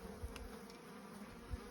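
Honey bees hum steadily inside a hive, a dense continuous buzz with a couple of brief louder low thumps, no voices.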